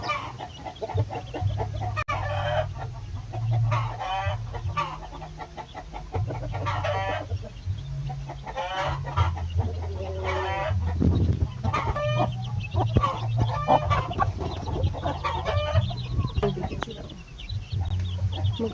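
Thirteen young chicks peeping alongside mother hens clucking, with repeated calls scattered over a steady low background for nearly twenty seconds, some close, with no talk.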